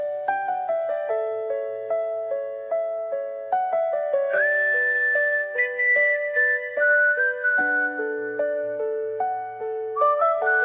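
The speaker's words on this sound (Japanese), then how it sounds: "バラード、ディープハウス、シンフォニックメタル、いろいろなジャンルで口笛の音を聞いてみよう。" Whistled melody generated by Suno AI v4 inside a song, clear stepped tones gliding between notes over a steady backing, continuous and prominent throughout with no talk.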